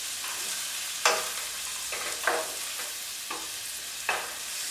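Onions cooking down in a pan with a whole bay leaf make a soft, quiet sizzle broken by several scraping stirs at irregular intervals.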